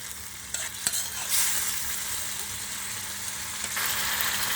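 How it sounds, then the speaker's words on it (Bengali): Spice paste with turmeric and chili powder fries in a pan for shrimp bhuna, a steady close sizzle broken by scraping stirs and a few knocks of the spoon, with no talking. "মশলাটাকে আমি খুব ভালো করে কষিয়ে নেব"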